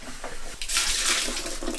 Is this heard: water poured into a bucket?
yes